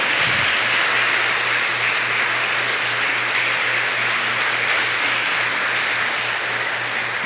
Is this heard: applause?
yes